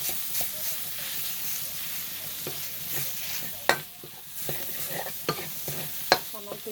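Minced pork being stir-fried for nam prik ong, a continuous close sizzle and scrape of stirring with sharp clacks of the utensil against the pan, with no speech over it.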